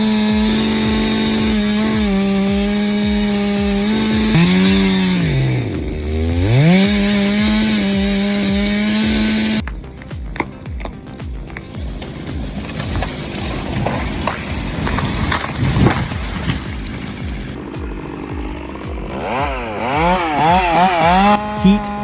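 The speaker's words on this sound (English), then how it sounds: "This high-torque chainsaw turns raw danger into control, biting clean through massive timber." A high-torque chainsaw cutting through red oak timber, its engine whining and revving with pitch dips under load, then a rougher grinding cut phase before the motor revs up again near the end, loud and close.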